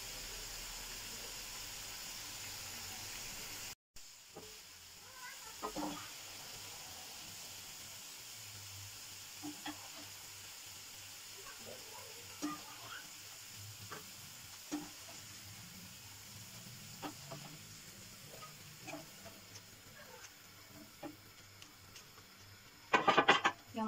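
Potato köfte fry steadily in a pan, crisping, with a soft continuous sizzle and scattered pops and crackles that grow busier and louder near the end.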